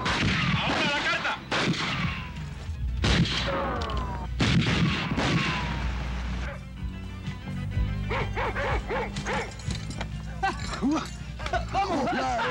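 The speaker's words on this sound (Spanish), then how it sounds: "¿Qué rayos se traerá esa gente con tanto tiroteo?" Guns fire at bottles in a Cuban telenovela scene: several sharp, loud gunshots in quick irregular bursts, with dogs barking and people talking and shouting between the shots.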